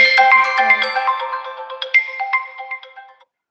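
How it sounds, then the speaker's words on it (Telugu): A phone's melodic ringtone plays a quick run of bright electronic notes, close and fairly loud, then fades out after about three seconds with no voices. "మళ్ళీ ఇప్పుడు కూడా ఫోన్ వస్తుంది"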